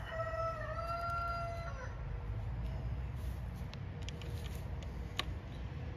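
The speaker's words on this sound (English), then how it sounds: "I got a feeling that the neighbors is fixing to start griping about my roosters." Backyard roosters crow in clear, drawn-out cock-a-doodle-doo calls up close, followed by scattered clucking and faint chicken noises over a low background rumble.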